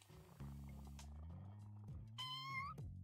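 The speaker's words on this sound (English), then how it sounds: "Give the cat scritches." Cat in the No More Heroes video game being petted, meowing in a drawn-out, pitch-sliding call followed by a higher, brighter meow, clear and close over a soft game music backdrop.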